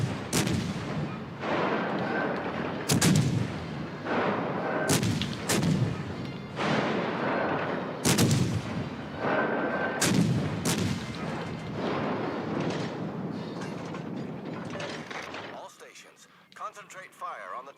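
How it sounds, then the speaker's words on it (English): Heavy naval guns thunder in a warship video game, with loud booming salvos and sharp reports repeating every second or two, while someone talks over them, before the firing drops away to near quiet. "Concentrate fire on the target."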